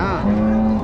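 A single cow moos nearby at a cattle market, a short, steady low-pitched call.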